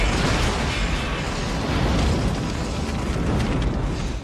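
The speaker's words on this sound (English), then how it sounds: "he was blasted away by Cape's particle cannon." A particle cannon firing into armor releases a loud, sustained explosive roar, a dense rumbling blast that holds steady for several seconds with no pauses.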